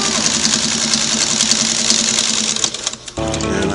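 A Singer 301A sewing machine stitches polyester fabric with a fast, steady mechanical whir up close. It slows and stops near the end, then a brief lower hum follows.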